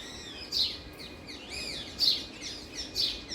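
A noisy flock of birds, parrots among them, chirps and calls at close range, with sharp repeated bursts of tweets over a soft outdoor background.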